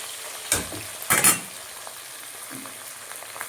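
Fish fry in plenty of oil in a home kitchen, a soft steady sizzle broken by a couple of sharp clattering bursts from handling the pan, close but fairly quiet.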